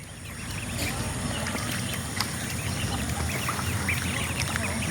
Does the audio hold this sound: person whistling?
no